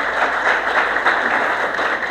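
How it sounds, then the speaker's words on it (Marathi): An audience at a public talk breaks into applause, a dense, steady patter of many hands clapping together that carries on without a pause. "टाळ्या टाळ्या"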